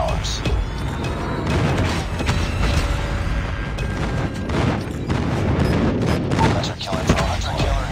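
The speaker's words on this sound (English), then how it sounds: "Friendly airstrike incoming. Friendly predator missile inbound." Explosions and gunfire from an airstrike and predator missile in a Call of Duty multiplayer hardpoint match, dense rumbling booms and crackling bursts filling the whole stretch at steady loud level with game announcer voice lines mixed in.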